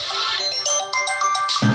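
A mobile phone ringtone for an incoming call plays as a bright repeating electronic melody, close and fairly loud, for under two seconds with no one talking over it.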